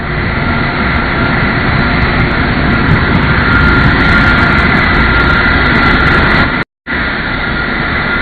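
A NASA Boeing 747 Shuttle Carrier Aircraft, number 905, flies over Kennedy Space Center's shuttle landing facility carrying Space Shuttle Endeavour, a loud, steady, continuous jet engine roar with one brief dropout near the end.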